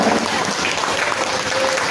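Church congregation applauding together, a full sustained patter of many hands, close and steady, with faint voices underneath.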